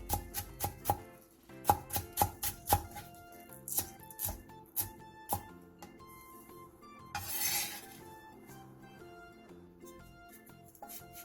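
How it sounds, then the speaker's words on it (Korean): A knife chops half a green onion, a cheongyang chili and a red chili, each halved lengthwise, into fine pieces on a board. Quick, crisp taps come in bursts, then sparser cuts, over soft background music. "대파 2분의 1개, 청양고추 1개, 홍고추 1개를 길게 반으로 가른 뒤 쫑쫑 썰어주세요."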